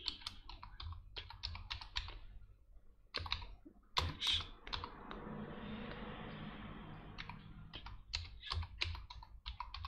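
A computer keyboard is typed on while entering a text label in FreeCAD, with quick bursts of close key clicks. The clicking pauses during a stretch of soft background noise and then resumes, and no one speaks.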